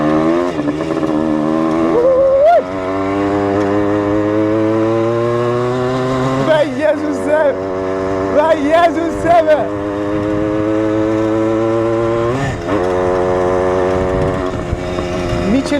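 A dirt motorcycle ridden out of the city, loud and close, its engine revving and shifting pitch through gear changes with a brief throttle drop midway, while a rider talks over it.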